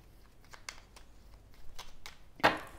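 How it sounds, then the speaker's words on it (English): Tarot cards being shuffled by hand: soft, quiet riffling and flicking in short bursts, ending with a sharper snap of cards close by. "let's shuffle a little bit"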